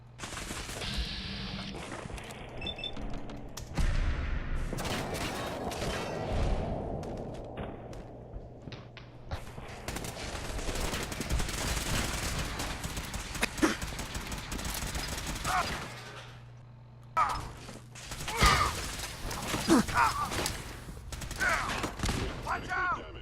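Fallout 4 combat gunfire comes in repeated shots and rattling bursts over a long stretch, mixed with thuds and game effects and a voice speaking between the shots.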